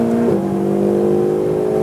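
A Ferrari 488 Pista engine at full throttle on the Exotics Racing track, a loud, close, steady howl that dips sharply in pitch at one quick upshift early on, then keeps climbing again, with no voices.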